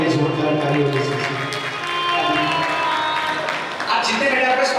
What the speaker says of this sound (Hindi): एक बार माता पिता के लिए जोरदार ताली होनी चाहिए